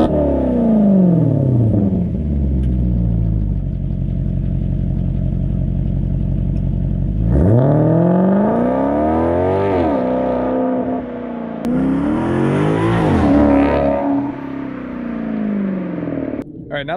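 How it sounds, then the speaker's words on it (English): Maserati GranTurismo engine idles loudly, then revs and pulls away, followed by repeated rising and falling passes as the car drives by, close and powerful. "Let's go ahead and get some footage of the car taking off and doing a drive-by."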